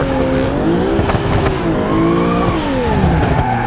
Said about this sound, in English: So basically the wheels just spin, you know, full speed.